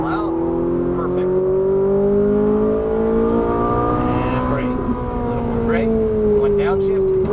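A Ferrari 458 Italia's engine drives a race track, loud and close, with revs rising and falling steadily through the throttle and downshifts, and someone talks over it.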